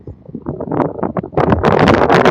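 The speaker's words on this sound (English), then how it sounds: "it is a windy area here" Gusty wind buffets the microphone outdoors at the SpaceX Starbase build site in Boca Chica, Texas, roaring in loud, uneven rushes that build and stay strong.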